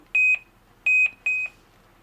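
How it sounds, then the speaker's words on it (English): Three short electronic beeps at one steady high pitch from a FNIRSI LPM-10A network cable tester, each sounding as a quick double pulse, repeating with brief gaps over quiet background. "It is beeping when I will go to the correct cable."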